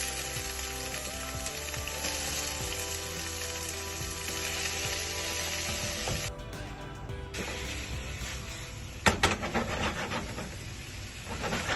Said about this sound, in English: I'm gonna start adding my veggies. Peppers in there.